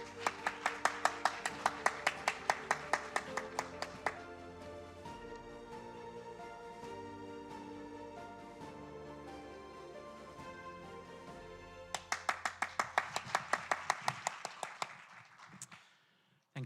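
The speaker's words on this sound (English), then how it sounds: "let us welcome with our applause" Audience claps to welcome Australian Office Taipei Deputy Representative Michael Gugan on stage at a Taiwan-Australia MOU exchange ceremony, with bursts of brisk clapping at the start and again near the end over steady background music.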